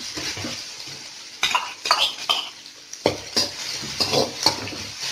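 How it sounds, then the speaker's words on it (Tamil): Onions sautéing in a pan for a spicy chicken roll, with a soft sizzle under repeated scraping and clinking of a spoon stirring against the pan. "அதில் வெங்காயம் நல்லா வணங்கணும்"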